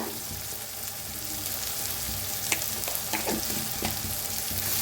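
Onion and tomato frying with turmeric in a pan for a Maharashtrian potato usal curry, giving a steady close sizzle with a few sharp clinks of a spoon scraping the pan and no voices.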